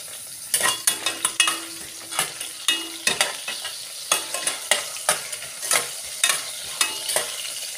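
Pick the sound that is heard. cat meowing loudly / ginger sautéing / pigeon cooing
ginger sautéing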